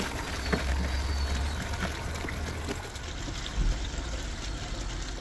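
Water runs steadily through a freshly cleared roof gutter during a low-pressure moss-removal cleaning, a continuous close trickle and splash with a brief louder gush midway.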